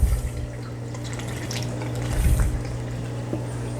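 A mix of apple cider vinegar and water being poured into a container for culturing vinegar eels, a steady close liquid trickle with a brief splashy swell partway through.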